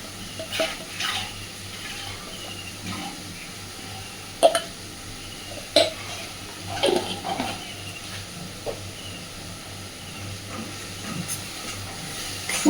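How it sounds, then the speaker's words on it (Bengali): Spice paste frying and being stirred in a pan over a medium gas flame, with a steady close sizzle broken by repeated scraping strokes of the spoon and occasional sharp taps against the pan. "গ্যাসের ফ্লেমটাকে মিডিয়ামে রেখে ভালোভাবে মশলাটাকে কষাতে থাকবো"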